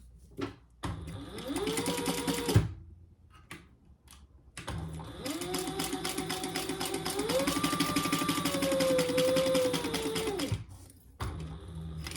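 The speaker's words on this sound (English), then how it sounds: "And now we're gonna just top stitch that." Domestic sewing machine top-stitching through layered fabric pieces of a travel organizer with a tag sewn in, running in steady whirring bursts with short pauses between, close and fairly loud.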